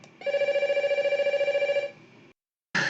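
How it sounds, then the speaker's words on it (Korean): A telephone rings with a steady electronic trill for nearly two seconds, loud and close, then stops; after a short silence a burst of another sound begins. "전화가 와가지고"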